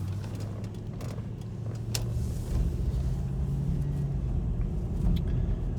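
Old $1000 Jeep driving, a steady low engine rumble with road noise heard from inside the cabin, building slightly and holding loud and continuous, with no talking.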